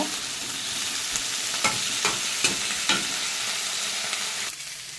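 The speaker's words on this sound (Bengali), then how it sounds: "এখন এটাকে একটু ভালো করে একটু ভেজে নেব।" Mixed vegetables including beans, eggplant, potato and radish fry in a pan, a constant close sizzle broken by a few soft scrapes of stirring.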